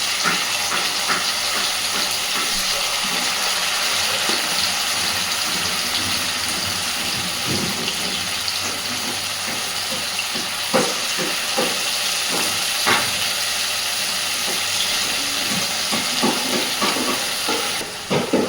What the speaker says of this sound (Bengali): আস্তে আস্তে একটু সময় নিয়ে এইভাবে পনিরের পিসগুলোকে তেলের মধ্যে সব দিয়ে দেবো।